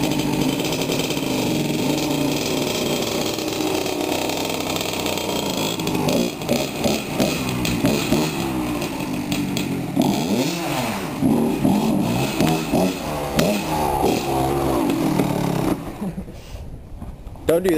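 A dirt bike engine idles and revs up and down in repeated throttle blips, loud and close throughout, with people talking over it.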